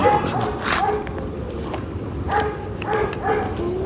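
Dogs bark and yip in short bursts at irregular intervals in a forest, moderately distant, over a constant outdoor hiss.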